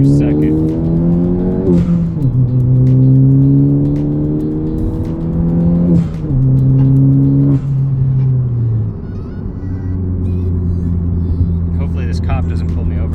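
A 10th-generation Honda Civic fitted with Hasport motor mounts accelerates hard through second gear, its loud, close engine drone climbing steadily in pitch, easing briefly between pulls, then settling lower near the end.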